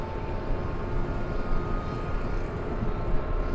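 A jet airliner departs Los Angeles International Airport, its engine roar a steady, broad rumble that holds loud and constant throughout with no voices over it.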